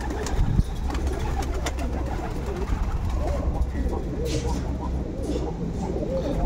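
Ornamental pigeons in a Voronezh loft, including Armenian Oktemberyan, Garevizy and marble-necked birds, coo and murmur steadily at close range, layered over a continuous low background rumble.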